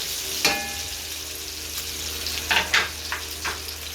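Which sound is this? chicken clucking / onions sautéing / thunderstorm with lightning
onions sautéing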